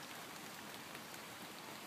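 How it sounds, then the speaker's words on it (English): Steady rain falls outdoors, a dense even hiss of countless drops hitting surfaces, constant and close throughout with no voices or other sounds. "the rain, sound of the rain, the feeling of the raindrops"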